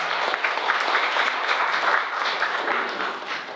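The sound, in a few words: applause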